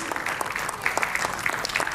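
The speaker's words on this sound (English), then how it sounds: "Applause, please." Brief burst of audience clapping at a student award felicitation ceremony, dense and even throughout with scattered sharper claps standing out, no clear speech.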